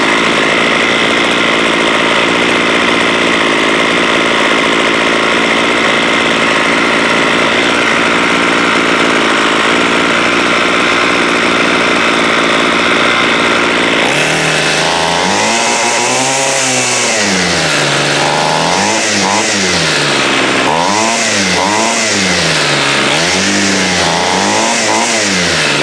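A water-soaked Homelite weed eater's small two-stroke engine running loud and close, first a steady high drone, then several rising and falling revs through the second half.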